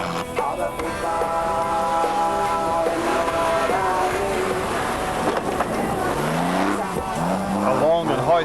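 Rally cars in the 1993 Australian Safari on day 5, on a high-speed section of the Andado track through steep, soft sand dunes at the Simpson Desert's edge. Engines rev and roar loudly, rising and falling continuously as the cars drive past.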